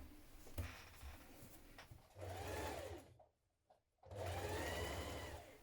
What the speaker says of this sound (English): you're going to stitch your lower sleeve and your upper sleeve together